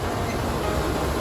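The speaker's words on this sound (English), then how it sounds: "I didn't take into account that the wind would be this loud." Loud outdoor wind buffets the microphone in a steady, unbroken roar of dense rushing noise for the whole moment, with no voices.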